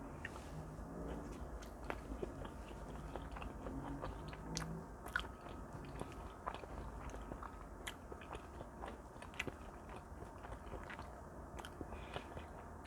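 Close, quiet chewing and biting of homemade blueberry pancakes with nutmeg and maple syrup, soft continuous mouth sounds and crunches with no talking.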